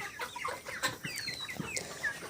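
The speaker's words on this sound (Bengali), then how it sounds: "আমার একশো পিসের মতো মোরগ আছে এবং পঞ্চাশ প্লাস মুরগি আছে" A flock of about a hundred roosters and fifty-plus hens clucking and squawking in overlapping calls, fairly close, with busy farmyard chatter throughout.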